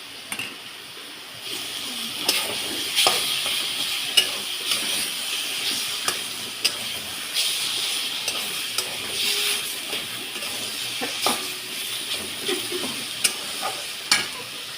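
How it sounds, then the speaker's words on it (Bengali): Ginger-garlic paste sizzling and spitting steadily in a hot frying pan, with a spoon stirring and scraping against the metal at intervals, close and fairly loud throughout. "দিয়ে দেবো এক চামচ আদা রসুনের বাটা"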